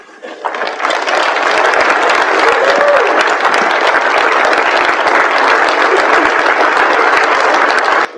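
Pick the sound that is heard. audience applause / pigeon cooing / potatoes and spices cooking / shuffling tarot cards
audience applause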